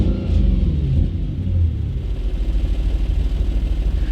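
An Audi B7 RS4 V8 engine runs with a deep, throbbing rumble that pulses steadily, heard close and loud with no voices over it.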